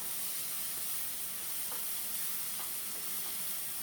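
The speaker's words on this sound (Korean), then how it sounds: "피망은 금방 볶아요" Green bell pepper stir-fries in a pan with a soft, steady, hissing sizzle that runs throughout, broken only by a few faint stirring clinks, with no voices.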